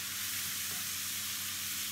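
Chili meat frying and browning in a pan gives a steady, even sizzle with a soft hiss, close and continuous, with no voices.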